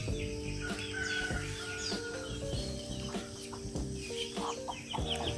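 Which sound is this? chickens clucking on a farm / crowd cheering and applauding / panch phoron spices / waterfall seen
chickens clucking on a farm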